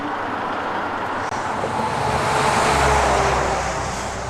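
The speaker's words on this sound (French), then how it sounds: "Le trafic est fluide, les voitures filent." Night roadway traffic with cars speeding past, a loud continuous rush of tyres and engines swelling as a vehicle nears and passes close by.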